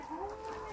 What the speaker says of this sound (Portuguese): As galinhas que começou a botar hoje.